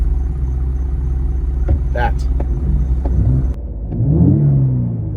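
A Steeda Ford Explorer ST fitted with a Thermal R&D exhaust fires up, giving a steady low rumble that swells into a louder revving burst near the end, with someone talking over the engine at the start.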